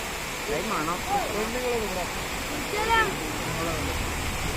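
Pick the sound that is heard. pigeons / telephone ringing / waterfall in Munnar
waterfall in Munnar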